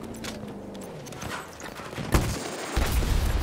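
Gunfire in the video game Battlefield 2042 comes as a few scattered sharp shots, then a louder burst and a dense stretch of rapid firing near the end, with one heavy impact standing out.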